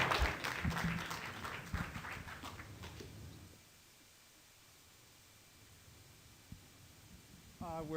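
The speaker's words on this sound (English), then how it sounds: "Let's give them a round of applause." A conference audience claps in a short round of applause that fades out after about three seconds, leaving quiet room noise.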